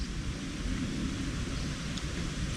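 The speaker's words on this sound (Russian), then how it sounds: "Гром гремит." Low rumble of thunder during rain, heard near a cave at night, a steady broad roar with deep low-end rolling throughout and no voices.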